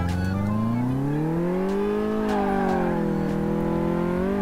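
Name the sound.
car accelerating in video game Car Mechanic Simulator 2018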